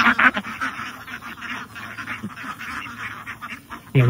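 A flock of ducks quacking nearby, overlapping nasal calls in a busy, continuous chatter with louder bursts at the start and end, no talk over them.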